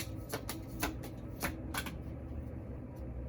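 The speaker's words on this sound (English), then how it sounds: "I'm gonna do this quick shuffle and get this old card out the way" A quick shuffle of a tarot deck, soft papery riffles repeating a handful of times over a steady low background hum, close and fairly quiet, with no voices.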